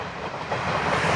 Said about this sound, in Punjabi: ਰੇਲ ਗੱਡੀ ਆਈ ਆ ਵੀ ਰੇਲ ਗੱਡੀ ਆਈ ਆ